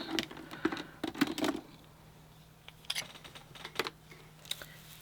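Several short crisp snips from precision point scissors in quick bursts, close by, with pauses between clusters; no talking.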